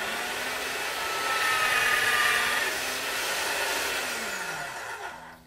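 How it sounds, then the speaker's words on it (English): A motorized pasta machine rolls polymer clay with a steady, loud whirring motor drone that holds for several seconds, then winds down at the end. "I am going to feed it through my pasta machine, which it's going to be kind of loud because I was gifted a motor"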